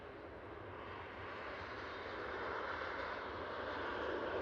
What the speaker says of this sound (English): We do have our first prop of the day, just passing Mobley. It's Logan Air coming in from Inverness.